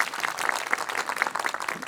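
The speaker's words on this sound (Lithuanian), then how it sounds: "Plojimai" Dense applause from a studio audience during a Lithuanian game show, steady crackling claps with a few sharper bursts, loud and close, no talk over it.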